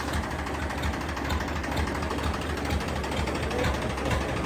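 A 275 or 475 tractor engine idles steadily nearby, a low rhythmic chugging rumble that holds constant without speech.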